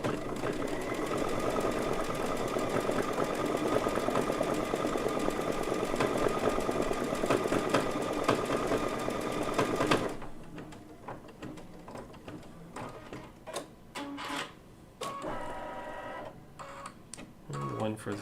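A sewing machine runs a rapid, steady burst of tack-down stitches on a quilt, then breaks into shorter intermittent bursts and clicks of handling, close by.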